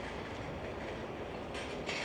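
A train moving at Almaty 2 railway station in Kazakhstan, a continuous rolling rumble with brighter metallic wheel noise near the end, fairly faint and without speech.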